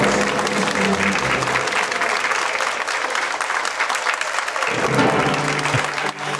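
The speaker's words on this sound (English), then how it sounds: "How are these people going to keep clapping?" Sustained applause from a film crowd cheering a birthday cake, loud continuous clapping that thickens near the end with a brief dip at the close.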